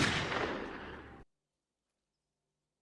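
In the video game PlanetSide 2, Fortuna and Mercenary guns fire at close range. The result is a loud, dense burst of rapid gunfire lasting about a second, then an abrupt cut to silence.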